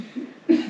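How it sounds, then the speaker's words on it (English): A person coughs twice into a close microphone, two short husky bursts with a brief gap between them. "Stop coughing into the mic."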